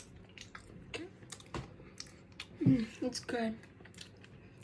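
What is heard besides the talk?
eating Doritos in a video game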